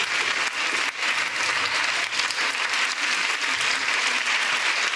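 An audience applauding flamenco dancers at a regional flamenco competition in the Drôme, dense sustained clapping filling the hall, steady and loud with no talk over it.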